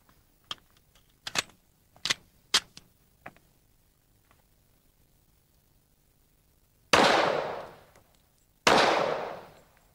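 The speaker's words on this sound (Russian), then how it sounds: "Давай вставим магазин и сделаем пару выстрелов." Handgun shots at a shooting range: a handful of sharp, close reports, four or five quick cracks early on, then two louder, longer blasts spaced a couple of seconds apart, with quiet between them.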